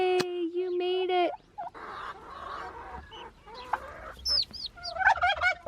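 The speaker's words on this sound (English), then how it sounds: "we go to check on the turkeys" Turkeys gobbling and chickens clucking on a farm in Bolivia, with a rooster-like call early on and shrill, rising bird calls near the end, close and loud with no talk.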